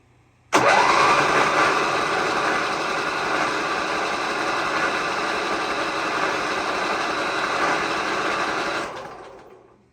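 A Briggs and Stratton 26hp engine cranking over after a new cam install, the starter catching abruptly and whirring at a steady, loud, continuous pitch for about eight seconds before cutting off and winding down.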